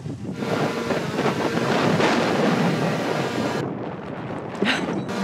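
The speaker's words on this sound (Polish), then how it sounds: "jest dość mocny wiatr" Strong wind roars loudly and steadily into the microphone during a drone flight at Czorsztyn, a broadband rush that eases briefly near the end. No voices.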